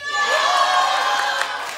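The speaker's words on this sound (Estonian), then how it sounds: "Kestvad ovatsioonid teile kõigile." An audience at a school musical at Viljandi Gymnasium in Estonia cheers and shouts in a loud, sustained ovation, with high voices whooping together throughout and no single speaker standing out.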